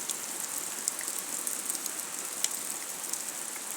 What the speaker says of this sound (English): It's pouring, eh? It's been raining for the past 20 minutes or so, I think.